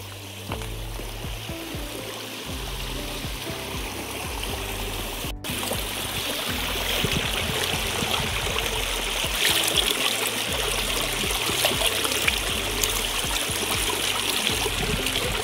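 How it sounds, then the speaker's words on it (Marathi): Water from a waterfall runs along a rural stream in farmland, a continuous rushing flow heard close and steady throughout, with no talk. "इकडं आहे तो धबधबा आणि पाणी इथूनच वाहतंय ते दिसतंय."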